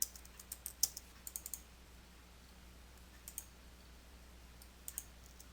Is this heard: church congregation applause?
no